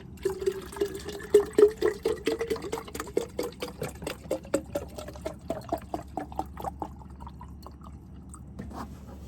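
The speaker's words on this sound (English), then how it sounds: "I'm gonna go ahead and fill up my water for the day" Water runs into a container inside a camper van, a series of close, rapid drips and pours with rising, gurgling pitch as it fills, then tapering off quietly.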